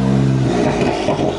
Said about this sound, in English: No way, that's the newer BMW M3. Is that the CS?